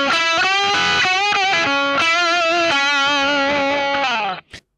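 Electric guitar playing a slow lick from a solo, sustained bent notes with distortion and effects, alone and close, ending abruptly.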